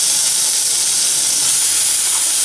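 Yogurt hits a hot pan and sizzles loudly and steadily, a dense frying hiss that holds without a break.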